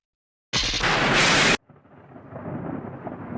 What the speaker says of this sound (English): Lightning and thunder struck like an explosion.